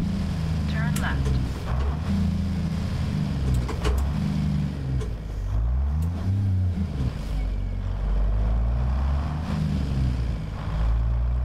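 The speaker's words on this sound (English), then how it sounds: "Got into that low gear a little quick" Car engine revving and dropping as the driver shifts into low gear a little quickly while approaching an intersection, with people talking over the drone.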